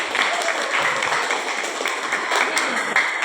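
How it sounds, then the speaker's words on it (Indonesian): An audience at an Indonesian organisational briefing session claps steadily in a dense, continuous patter that stays fairly level for the whole span. "Berikan tepuk tangan yang meriah."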